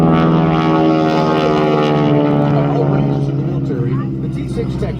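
A North American T-6 Texan propeller trainer airplane flies at a SoCal airshow, its engine a loud, steady droning hum that eases slightly near the end, with a voice speaking over it.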